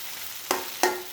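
Boiled noodles stir-fry in a hot pan. A close, steady sizzle is broken by two quick scraping strokes of the spatula.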